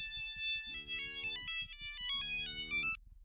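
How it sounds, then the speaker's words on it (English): Nokia mobile phone ringtone playing inside a video game, a loud, clean electronic melody of rapid stepped tones repeating in two phrases over a steady pulsing beat, cutting off abruptly near the end. "It's okay, that's just a normal phone."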